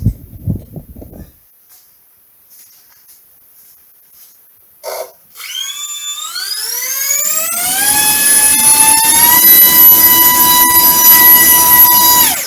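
A power pod motor on a Kavan Uhu/Falke model glider starts after a few brief clicks and spools up to a loud, steady high-pitched whine that holds near and strong.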